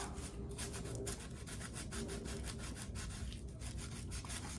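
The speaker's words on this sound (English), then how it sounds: "It's taking a little bit more scrubbing than I would like, but that's okay. It's still coming off." Paint stripped from a model car body is scrubbed off with quick, rhythmic back-and-forth rubbing strokes, close and fairly faint, with no talk.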